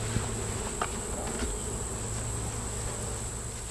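A continuous, close hum of many honeybees buzzing around an open, weak hive during a summer inspection with smoke, steady throughout with a faint high whine running underneath.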